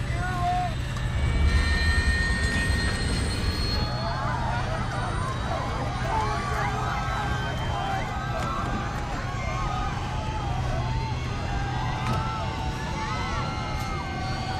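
A jet airliner rolls inverted in a dramatic film scene, a steady heavy roar of engines and rushing air under a tense musical score and warbling tones, with dialogue and cockpit voices faintly mixed in.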